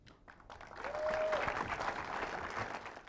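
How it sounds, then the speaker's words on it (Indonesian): A studio audience at an Indonesian TV game show claps, a burst of applause that swells quickly and holds steady for a couple of seconds before tapering slightly. "Kita tepuk tangan untuk Vita"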